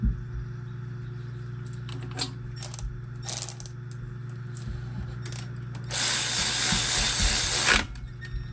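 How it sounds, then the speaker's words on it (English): A calculated torque wrench tightens billet rocker stands on an engine, giving a run of scattered mechanical clicks and ratchet ticks, then a louder, sustained ratcheting burst near the end, close and without talk. "Calculated torque wrench right there."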